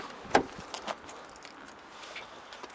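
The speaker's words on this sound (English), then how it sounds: "If we open up the back doors" The rear doors of a Kia Ceed GS hatchback are opened: a sharp latch click comes first, then a second softer clunk, then quiet handling sounds in a calm setting.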